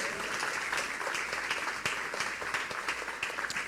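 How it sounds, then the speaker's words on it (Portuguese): Congregation applauding during a Portuguese-language church service focused on debt, a steady wash of many hands clapping at moderate distance, with no talking over it. "Aplauda ao Senhor."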